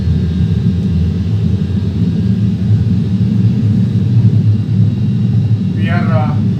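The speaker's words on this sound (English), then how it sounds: "Now see the plane is taking off." Steady low jet-engine rumble of an airliner rolling down the runway on takeoff in a flight simulator game, continuous and fairly loud, with a brief chirping sound near the end.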